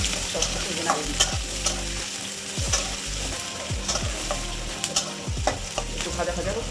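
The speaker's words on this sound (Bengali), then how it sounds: "এখন নাড়ি দিই, পেঁয়াজগুলো লাল করে লাল হওয়া পর্যন্ত ভাজতে হবে।" Garlic, onion and green chili, with cumin, sizzle steadily in hot oil for water spinach, while a spatula scrapes and stirs the pan in repeated strokes, close and clear with no talk.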